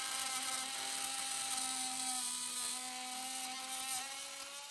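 Reciprocating saw cutting through the posts of a Tesla Model 3 battery, a steady loud high-pitched whine with a sustained tonal drone running unbroken throughout.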